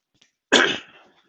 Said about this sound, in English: I get that sudden cough every time I go live